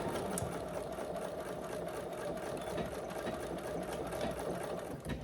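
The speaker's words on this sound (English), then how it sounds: "I'm just doing a 1/4 inch seam." Sewing machine stitching a quarter-inch seam in fish-print fabric: a quiet, steady rapid whir with a fast regular needle rhythm running continuously for about five seconds.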